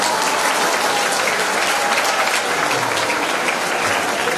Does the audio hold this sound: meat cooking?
no